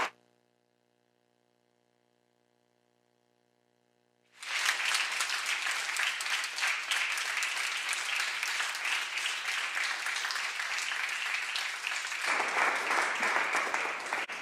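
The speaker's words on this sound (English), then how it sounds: "would you please join me in a round of applause to honor Richard Paul for his dedicated service to the state?" After about four seconds of near silence with a faint tone, applause bursts out in a state senate chamber honoring a retiring staff member, dense steady clapping that carries on loudly to the end.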